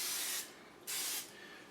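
Two loud bursts of hissing aerosol cooking spray coated onto a gluten-free churro waffle, each lasting about half a second with a short gap between, close to the microphone and with no talk.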